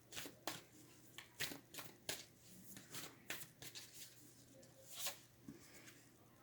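Tarot cards are shuffled and drawn in sharp, irregular flicks and snaps, close to the microphone but quiet overall.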